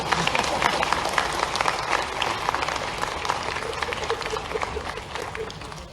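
Audience clapping in a hall at the Ayurveda Parv 2025 event in Bhopal, a sustained, moderately loud patter of many hands from a seated crowd, steady throughout with light murmur underneath.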